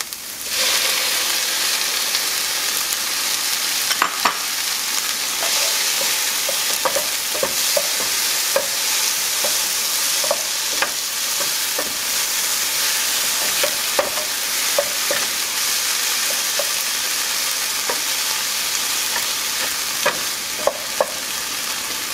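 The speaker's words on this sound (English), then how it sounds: "So I'm gonna go ahead and keep sauteing this on a very low heat in the back." Tomato sautés in a pan over low heat alongside peppers for chile rellenos, producing a continuous soft sizzle with frequent light scrapes and clicks of a stirring utensil, close up and without voices.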